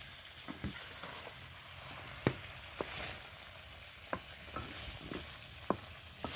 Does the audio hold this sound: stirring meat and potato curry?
yes